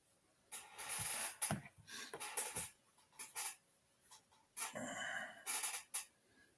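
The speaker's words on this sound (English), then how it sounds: "I got to let a dog in" A dog comes indoors, with bursts of panting, claw scrabbles and shuffling, plus a brief whimper, all nearby and fairly loud between short quiet gaps.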